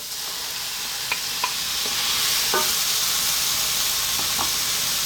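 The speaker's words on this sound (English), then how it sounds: "Then we're going to add our pureed fresh tomato." Pureed fresh tomato hits a hot pan of spiced prawn curry base and sets off a loud, steady, close sizzle, broken by a few faint stirring taps.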